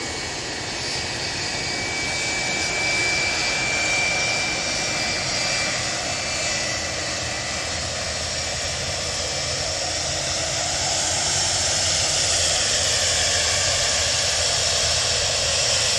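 Airliner engines roar steadily near the runway at Manchester Airport, a loud, continuous jet drone that swells slightly toward the end, heard alone without voices.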